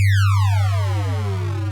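A UDO Super Gemini synthesizer plays a ring modulation tone, a steady low drone under bright metallic partials that sweep steadily downward, loud and alone.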